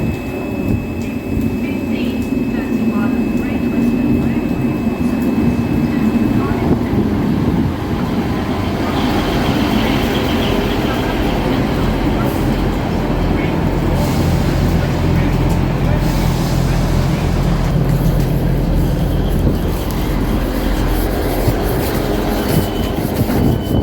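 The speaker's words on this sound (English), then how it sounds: "this is the Great Western Railway 158 Express Sprinter." A Great Western Railway Class 158 Express Sprinter train gives a loud, steady rumble that runs unbroken from start to finish, with a deeper drone joining partway through.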